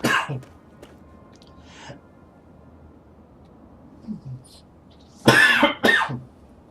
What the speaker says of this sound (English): The cough came back.